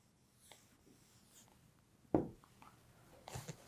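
Faint pen or pencil scratches trace out handwritten Arabic letters, quiet strokes with one sharper tap and a couple of softer scrapes toward the end.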